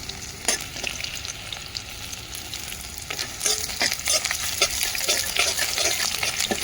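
Vadi and onion fry in a pan with ginger going in, a steady bright sizzle broken by intermittent stirring scrapes that grow busier and louder in the second half, with no voices.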